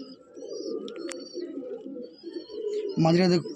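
A Madrasi breeding pigeon at a loft gives low cooing close by while a voice talks over it, ending in a louder, fuller burst of coos.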